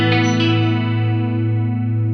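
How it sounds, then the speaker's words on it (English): A distorted metal guitar played through a chorus effect on a Line 6 rig, with a thick, sustained chord ringing loud and steady and a shimmering, swirling tone throughout. "Before the amp, I put a chorus."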